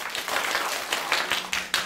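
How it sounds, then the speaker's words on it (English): Brief burst of applause, a scattering of hands clapping irregularly in a room, moderately loud and fading in pulses. "Let's give him a round of applause."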